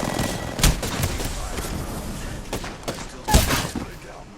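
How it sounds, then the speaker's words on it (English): Gunfire in Apex Legends, sharp cracking shots and short bursts with a couple of heavy loud reports, over a busy battle din. "The enemies are shooting at me."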